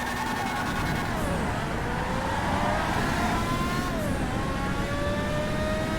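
A car engine revs hard and continuously in a GTA 5 mod as the wheels spin in place and smoke. The roar is loud and close, with pitch sweeps rising and falling as the throttle is worked.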